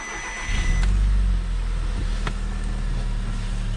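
A crashed Audi A1 Black Edition 185 bhp engine cranks and catches, surging briefly, then settles into a steady idle rumble nearby.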